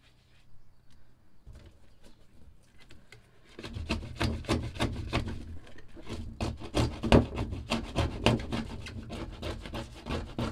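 A tool scrapes acetone-softened spray paint off equipment in rapid, rough strokes, starting faint and sparse, then becoming loud and dense after a few seconds, with a steady rasping rhythm up close.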